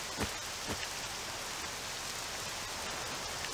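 Rain falls steadily in the game Octopath Traveler 2, a soft even hiss of drops on surfaces with a couple of brief heavier splashes near the start, heard alone and fairly quiet.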